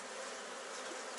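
Honeybees hum in a dense, steady buzz around a frame lifted from a weak spring colony during a hive inspection, close and continuous without a break, with no voices.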